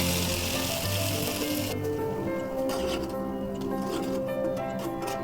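Nigella and mustard seeds sizzling in hot oil for a tempering, a close hissing crackle with a sudden drop in brightness partway through, and then softer popping and bubbling that continues to the end.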